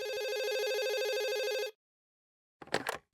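A telephone rings with a warbling electronic trill that stops abruptly, followed by silence and then a short burst of sound.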